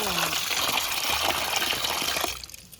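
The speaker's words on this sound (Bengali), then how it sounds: "এবার মাছটাকে ভালো করে ধুয়ে নেব।" Tap water gushes steadily and close by while freshly cut catla fish pieces are washed by hand, a continuous splashing flow that eases off near the end.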